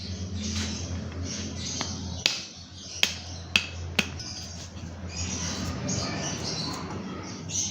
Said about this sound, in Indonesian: Akan saya haluskan terlebih dahulu 6 butir kemiri.